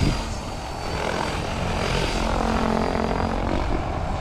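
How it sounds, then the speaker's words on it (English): RC helicopter, a Freedom Piuma flown at low head speed, giving a steady loud rotor whir with a fast blade chop throughout, close and continuous with no voices. "That blade chop still sounds great"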